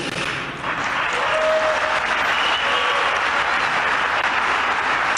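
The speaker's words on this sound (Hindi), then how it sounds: "मोहम्मद बिन सलमान ने भी खड़े होकर ट्रंप के ऐलान पर तालियां बजाई थी" Applause erupting in a hall after Trump's announcement on Syria, with Saudi Crown Prince Mohammed bin Salman standing to clap; a dense, loud, continuous wash of many hands clapping with no break.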